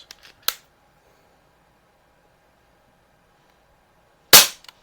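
Two sharp, close shots from a Umarex Notos air rifle fired over a chronograph, spaced about four seconds apart in near silence, with a few faint clicks before the first shot.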